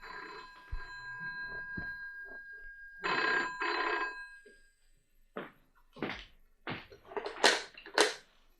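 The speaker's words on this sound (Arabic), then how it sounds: "اقوم انا ارد على التليفون" A telephone rings in an Egyptian comedy radio drama starring Fouad El-Mohandes and Khairia Ahmed: an old bell ring repeats in bursts, followed by a receiver-handling clatter and several knocks or thuds.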